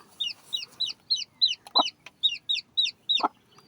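A paralysed chicken clucks close by in a quick, even series of about a dozen short, sharp calls, with two louder, rougher notes mixed in and no talking.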